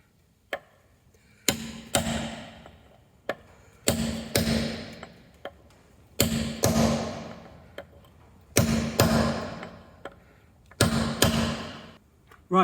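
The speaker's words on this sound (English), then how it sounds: "You take your cold chisel and your lump hammer. Basically, you want to make a notch in there" A lump hammer drives a cold chisel into a locking wheel bolt on a Citroen C4 Cactus, ringing metallic strikes landing one after another, some in quick pairs, each sharp crack followed by a short decaying ring, close and loud.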